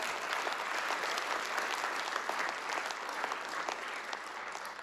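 A church congregation breaks into applause as a Christmas tree is shown, a broad, even wash of many hands clapping heard from some distance without talk.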